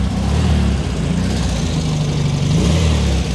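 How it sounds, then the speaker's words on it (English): A 1953 MGTD replica on a Volkswagen chassis with quad exhaust pipes, revved hard and held: a loud, close engine roar with a throbbing low rumble that stays sustained throughout. "Rev the engine for me, Stephen."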